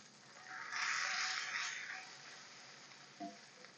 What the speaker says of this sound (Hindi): लहसुन अदरक का पेस्ट डाल के 1 मिनट मैंने इसको फ्राई कर लिया है